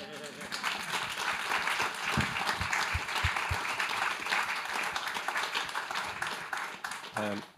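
Audience applause fills a hall at a Climate Week 2025 event, dense steady clapping that holds for about seven seconds before fading, with a voice coming in briefly at the end.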